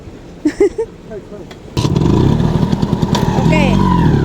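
A Vespa 90cc two-stroke scooter engine starts up after a quieter stretch with brief faint voices, then runs loud and close with a buzzing, rattly, uneven idle that continues to the end.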